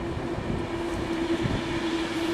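A Class 390 Pendolino train passes through South Hampstead station with a steady, moderately loud rolling rumble and a sustained tonal hum. There are faint rhythmic rail clicks and no talking.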